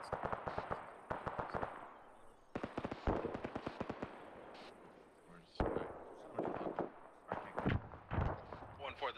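Dense volleys of game gunfire and booming artillery impacts from an ARMA 3 military session crackle in rapid bursts and scattered single blasts, with radio-style voices talking underneath.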